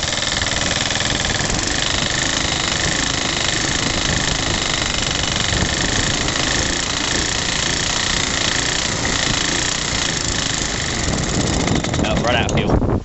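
A rebuilt Suffolk engine, a small single-cylinder motor, runs steadily at close range with a loud continuous mechanical drone and rattling vibration throughout, its note shifting slightly near the end.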